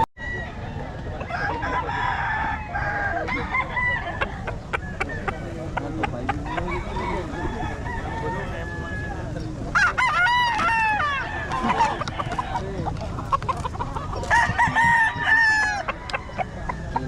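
Roosters crow repeatedly among clucking chickens at a poultry market in Bocaue, the birds close and overlapping in a busy chorus while people talk quietly underneath.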